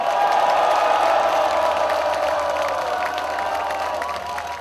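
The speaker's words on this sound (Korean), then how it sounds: "힘찬 함성과 박수를 보내주십시다" A large outdoor political rally crowd roars with sustained cheering and applause, a dense steady wash of voices and clapping that tapers slightly toward the end.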